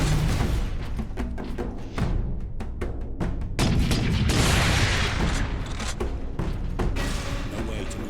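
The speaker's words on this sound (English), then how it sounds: "Missile launcher." Missile launcher firing in the Space Marine video game, a barrage of loud booming blasts and sharp impacts in quick succession, with heavy rumbling explosions layered over continuous battle noise.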